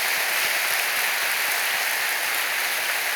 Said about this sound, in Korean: 여러분 크게 하나님 앞에 영광의 박수를 돌리시길 바랍니다